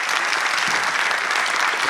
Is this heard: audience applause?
yes